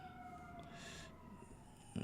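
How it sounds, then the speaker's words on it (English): An ambulance siren sounds faintly from outside, its steady wailing tones drifting at a distance through a quiet room, with a brief rustle near the end. "Ambulance is running."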